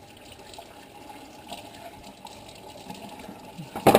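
Kitchen sink tap running to rinse raw baby back ribs, a steady soft stream of water with faint splashing, fairly quiet and continuous, ending in a brief louder clatter.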